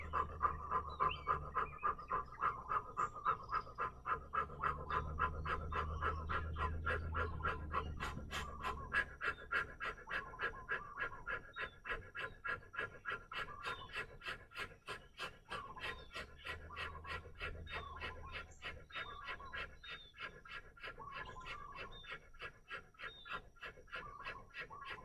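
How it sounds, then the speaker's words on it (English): Rapid rhythmic breath-of-fire breathing through the mouth during a yoga exercise, fast sharp exhalations in a steady pulsing pattern, close and clear, gradually continuing for the whole stretch. "We're going to do that breath of fire through the mouth."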